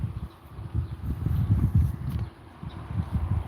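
A horse moves about nearby, its hooves thudding and clopping in an uneven, soft rhythm with some rustling, fairly close and without talk.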